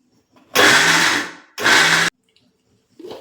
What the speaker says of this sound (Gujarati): આ મિશ્રણ છે તેને આપણે મિક્સર ચાલુ બંધ કરતા જઈ પલ્સ મોડ ઉપર દરદરો પાવડર તૈયાર કરી લેશું.